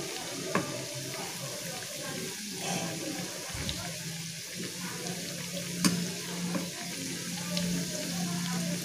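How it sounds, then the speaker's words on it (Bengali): Soybean pakoras deep-frying in oil bubble and sizzle continuously at moderate volume, with occasional light clinks and stirring sounds. "ভালো করে এগুলো ডিপ ফ্রাই করে নেব"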